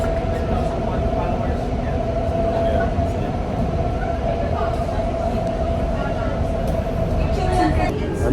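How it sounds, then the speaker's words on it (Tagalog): An airport rail train in South Korea running at steady speed, a continuous low rumble and hum of the carriage with faint passenger chatter underneath. "sakay tayo sa tren sa South Korea"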